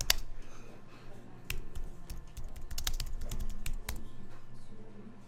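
A computer keyboard being typed on during Photoshop graphic-design work, with quick irregular bursts of close, crisp key clicks and brief pauses between them, alone without talk.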